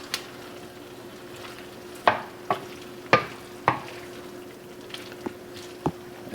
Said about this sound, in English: Let's give this a stir, just to mix it all in.